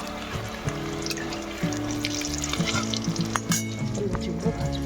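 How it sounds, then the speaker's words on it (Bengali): Eggplant slices fry in hot oil with a continuous bubbling sizzle and occasional clinks and scrapes of a spatula, close and fairly loud, with a steady tonal hum underneath and no speech. "তো এখন আমি এখানে বেগুন ভাজিটা করছি।"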